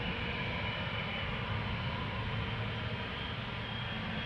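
A KLM airliner departing Amsterdam Schiphol Airport, a steady, low, rumbling engine roar at moderate distance, continuous and even throughout, with no voices.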